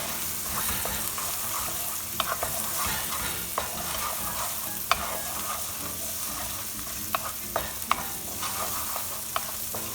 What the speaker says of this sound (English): Let it cook, saute a little bit.